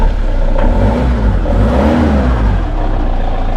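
A van's 2.2 litre HDI diesel engine runs after a cold start, a loud, close, steady clattering idle with a slight rise and fall in pitch.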